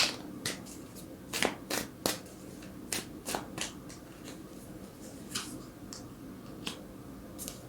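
Tarot cards are shuffled and drawn by hand, giving close, crisp riffles and sharp snapping flicks in irregular bursts over a quiet background.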